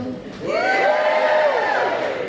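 A school audience cheers and whoops in a loud, sustained burst that rises quickly and then fades.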